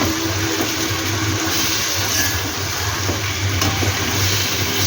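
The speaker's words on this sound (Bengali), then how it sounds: "এইবার ম্যারিনেট করা মাংসটা এর মধ্যে দিয়ে দিলাম।" Marinated chicken in spices sizzles in a hot pan, a steady and fairly loud crackle of frying with a low rumble underneath and no talking.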